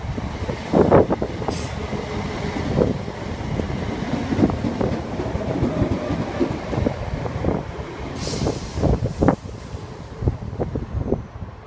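A British Rail Class 321 electric multiple unit passes through Stevenage station, a steady rolling rumble with rhythmic clicks of wheels over rail joints, fairly close and sustained throughout, with wind noise and no talking.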